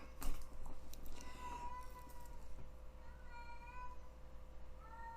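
A female cat in heat meows repeatedly in a home hallway, giving several drawn-out, wavering calls spaced a second or two apart at moderate distance over a low steady hum, with brief talk near the start.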